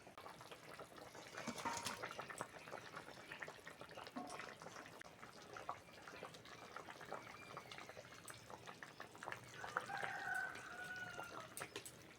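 Fish curry broth with taro and potato for a preserved hilsa dish simmers in a pot, giving a faint, steady bubbling with scattered soft pops and drips, no voices.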